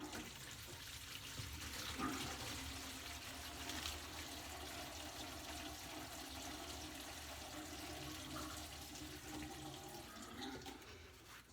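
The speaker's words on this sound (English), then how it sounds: "Next step is now to unstop the sink so that the water can flow down the drain" Water gurgles and trickles steadily down a bathroom sink drain after the stopper is opened, a faint, continuous rushing flow with no voices.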